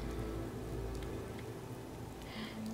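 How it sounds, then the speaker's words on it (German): Rain falls in the video game Fallout 4, a steady soft patter of drops on surfaces with a low rumbling bed underneath, continuous and fairly quiet. "nachdem es hier so schön regnet"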